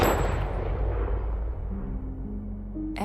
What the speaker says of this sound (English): The gunshot.